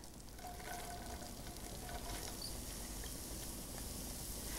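Two large leeks sizzling in two tablespoons of butter in a pan, a steady close crackling fry hiss that holds evenly throughout with no speech.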